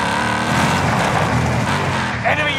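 A car in the video game Warzone drives with a loud, continuous engine roar and rumbling road noise, close and steady for a couple of seconds.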